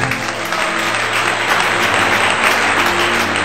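A church congregation applauds, dense sustained clapping from many hands filling the room at a steady loud level without pause.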